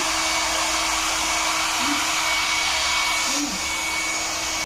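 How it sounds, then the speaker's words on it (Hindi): A hair dryer blows with a steady, loud hiss and hum throughout, unbroken and close by, while a faint voice is heard briefly in the background. "मेरा हेयर ड्रायर उठा के ले आया"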